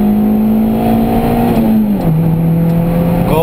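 A stock 1991 Honda Civic DX sedan accelerating, its engine droning loudly from inside the cabin as the pitch climbs steadily, drops briefly at a gear change, then holds on a lower steady note.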